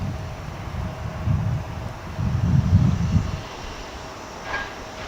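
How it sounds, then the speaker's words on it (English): American Airlines Airbus A321 at DFW International Airport, a low rumbling jet engine drone that swells twice in the middle, heard over steady background wind noise with no voices. "that was American flight 489 in Airbus A321, which has made its way from Amarillo, Texas"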